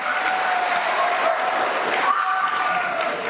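A church congregation at a Lunar New Year Mass claps for the choir, continuous, fairly loud applause spread evenly through the room with faint voices beneath.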